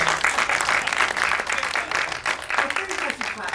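Audience applause at a Transgender Day of Remembrance gathering at Toronto City Hall, dense continuous clapping from a room full of people with a few voices mixed in.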